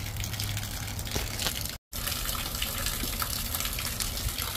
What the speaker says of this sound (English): that's a lot of water got to come out of there